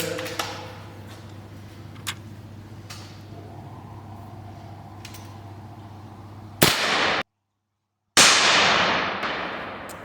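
Airsoft guns fire a few sharp, scattered snaps over a steady low hum, followed near the end by two louder, longer bursts split by a brief silent gap.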